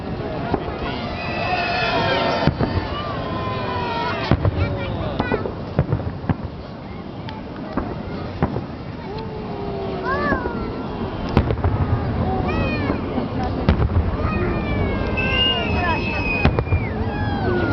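A Victory Day fireworks salute over Sergiev Posad bursts with repeated booms and crackles, whistling rockets rising between them, while a crowd murmurs and calls out nearby.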